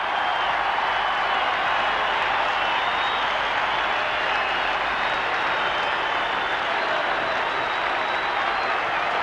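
A large crowd roars and cheers at a 1990 Australian Football League match as the Tigers' cheer squad is shown: a steady, dense, distant wash of crowd noise with no clear talk.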